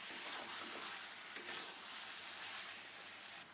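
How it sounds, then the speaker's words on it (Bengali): Goat meat is stirred and roasted in a pan, giving a faint, steady hissing sizzle with a couple of light clicks of the spoon. "এভাবে কিছু সময় ধরে মাংসগুলোকে ভালোভাবে নেড়ে ছেড়ে কষিয়ে নেব।"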